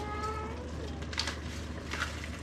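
A house cat meows in a kitchen where tomato spaghetti sauce is cooking, giving a couple of short, moderately close calls over steady background hum, with faint talk nearby.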